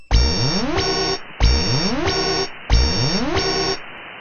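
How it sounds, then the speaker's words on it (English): An alarm on a ham radio amplifier sounds in three loud, identical electronic bursts, each lasting about a second with a brief gap between them, clear and close with no talking. "I just set off my alarm on the Lux, and I don't know why."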